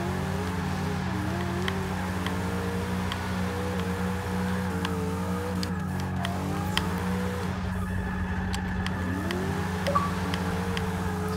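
A car accelerates hard around autocross cones, its engine droning and rising in pitch in steady waves, loud and close throughout with no one talking.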